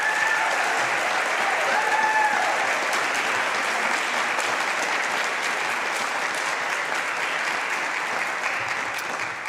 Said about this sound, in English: I think he deserves an applause for that.